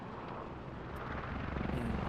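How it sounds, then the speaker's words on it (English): A helicopter flies in the military video game Squad, a steady, loud rotor roar with deep rumble that holds constant and swells slightly toward the end. "Dave is just doing his duty, flying around in the helicopter, dropping off as much supplies as he can"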